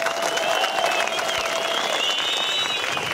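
An audience at a Vecherniy Kvartal concert for soldiers, held in the Mariupol airport, claps. The applause is steady and fairly soft, with a sustained tone and crowd murmur running underneath it.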